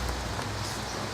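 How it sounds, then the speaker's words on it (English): Heavy rain and hail pour down outdoors, a dense, loud, steady hiss of hammering drops with no breaks. "it just started absolutely pouring it down, and then it's currently hailing"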